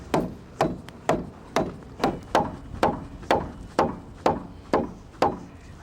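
A mallet strikes a transom plate on a boat during twin outboard installation, eleven sharp, evenly spaced thwacks about half a second apart, close and loud with no voices.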